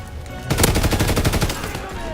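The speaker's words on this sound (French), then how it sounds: "Oh, explosion. Bam." Rapid gunfire and explosion bursts from the Call of Duty WW2 video game, a loud clattering volley of shots running for about a second after a quiet start, then fading into lower game noise.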